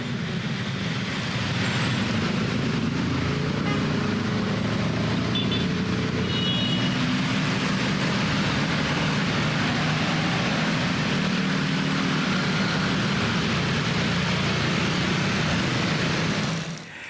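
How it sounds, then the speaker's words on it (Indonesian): Heavy traffic of holiday homecoming travellers moves along the Lingkar Gentong road in Tasikmalaya, West Java, a dense unbroken roar of passing cars and motorbikes, loud and steady throughout. "arus lalu lintas di kawasan Lingkar Gentong, Tasikmalaya, Jawa Barat juga masih ramai pemudik"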